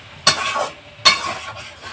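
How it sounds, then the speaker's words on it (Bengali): A soybean and potato curry masala being sautéd in a pan with a little water, with two brisk scraping stir strokes over a low background sizzle, close and brief. "তো এটা এখন নেড়ে চেড়ে কষাচ্ছি।"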